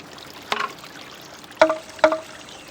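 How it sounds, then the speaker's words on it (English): Water spills and drips in a traditional bamboo shishi-odoshi in a Japanese garden, heard as three brief splashy trickles, one near the start and two close together later, with quiet pauses in between. "The lower bamboo tube slowly fills with water until it tips over."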